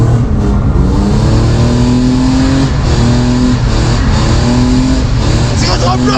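A BMW E30 drift car at a drift event revs hard while sliding, its loud, close engine note repeatedly climbing and dropping over a rough, continuous roar.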